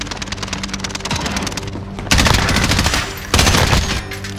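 Rapid automatic gunfire in the Warzone battle royale video game, dense bursts of shots that keep going, with two louder, heavier volleys breaking in partway through, loud and close.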